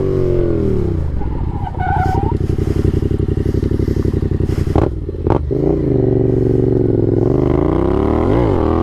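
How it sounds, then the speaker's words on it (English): A Yamaha Ténéré 700 adventure motorcycle engine revs and labours loudly and close, its pitch rising and falling as the bike shifts gears over rough ground, with some clatter. "no worries with an adventurous motorcycle like this"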